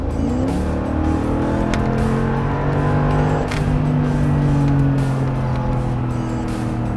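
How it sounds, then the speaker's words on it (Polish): A Mercedes-AMG G55 SUV engine revs and accelerates up close, its tone climbing and holding, with the whole car rattling and vibrating underneath and a few sharp clicks. "wciskacie gaz i wszystko się trzęsie"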